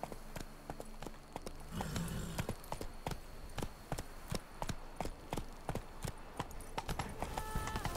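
Roach, a horse in The Witcher 3: Blood and Wine, gallops with steady, rapid hoofbeats that stay close and loud throughout, with no one speaking.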